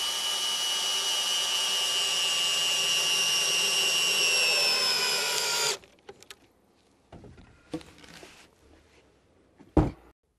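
A power driver sinks a SPAX screw into pergola wood, a loud, close, steady whirring whine that rises slightly in pitch for several seconds and stops abruptly, followed by a few quiet handling knocks and a sharp thud.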